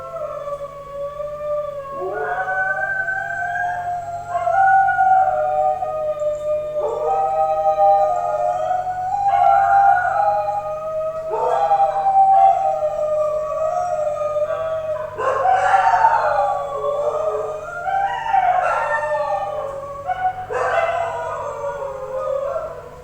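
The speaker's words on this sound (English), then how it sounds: "How a dog's howl travels through the whole city of Hat Yai." A dog howls across Hat Yai, Thailand, its long, wavering cries rising and falling again and again over a steady low city hum, heard from a distance with no talking.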